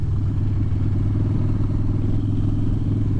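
Harley-Davidson motorcycle being ridden, a steady deep rumbling V-twin engine note with a throbbing low pulse, loud and close throughout with no talk.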